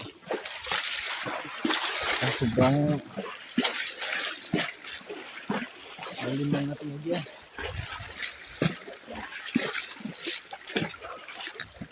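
Water splashes and sloshes as a carabao crosses a river, with steady splashing throughout and people talking over it outdoors.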